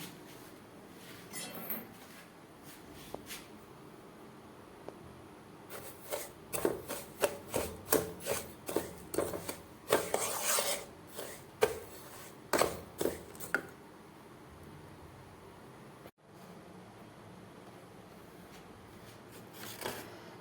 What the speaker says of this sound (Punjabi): ਹੁਣ ਆਪਾਂ ਨੂੰ ਕੁੱਟ ਪੀਸ ਕੇ ਇਸ ਤਰ੍ਹਾਂ ਦਾ ਮਸਾਲਾ ਤਿਆਰ ਕਰ ਲਿਆ